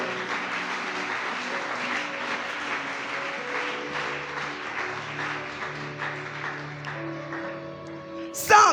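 Congregation applauding at a morning prayer service, a steady wash of clapping that carries on for several seconds with a sustained organ or keyboard tone beneath it, ending in a brief louder burst.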